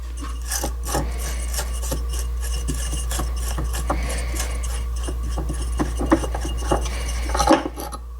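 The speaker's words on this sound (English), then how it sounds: "Let's take the impeller off." Metal parts rasp, scrape and clink during removal of the impeller from a Hayward pool pump, a series of short close scratches and taps over a constant low electrical hum that cuts off near the end.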